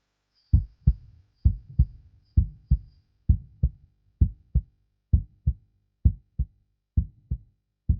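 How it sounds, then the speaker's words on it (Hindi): Heartbeat sound effect from a Hindi TV drama: loud, close lub-dub double thumps repeating at a steady, fairly quick pace with nothing else over them. "दिल की धड़कनें बढ़ गई हैं?"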